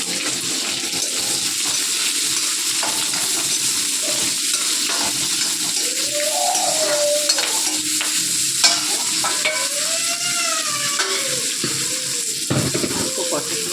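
Mustard seeds and curry leaves crackle and sizzle in hot oil, a steady bright frying hiss with scattered pops and clinks of a utensil, and a voice speaks briefly.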